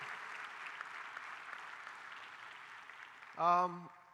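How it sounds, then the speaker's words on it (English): Faint, distant applause from an audience at a fintech and metaverse event, thanking the organizing committee, running steadily for a few seconds before a voice speaks briefly near the end. "please give a round of applause to the organizing committee of ADGM"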